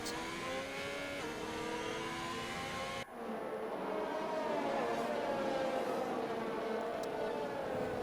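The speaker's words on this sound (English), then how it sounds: "That car makes such a nice noise." A high-revving Formula 1 race car engine in a game race at Abu Dhabi whines past, its pitch shifting as it passes and then drones on steadily, heard from a distance.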